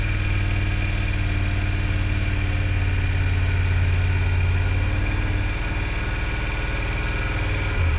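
A motorcycle engine runs at low speed through a slow U-turn drill, making a steady, close, throbbing idle-like drone with a slight drop in pitch partway through and no talking.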